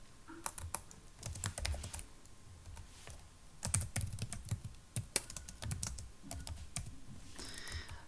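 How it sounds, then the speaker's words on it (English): Keys clatter on a computer keyboard as a Minikube dashboard command is typed: a close, crisp, irregular run of clicks and taps with short pauses, and no voices. "The simplest way to check with the web UI, so simply type Minikube dashboard"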